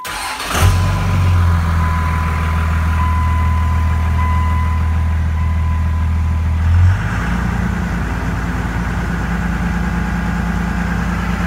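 A Cummins 5.9 diesel engine cranks and catches, then settles into a steady, loud, low idle that continues evenly close by, with no talking.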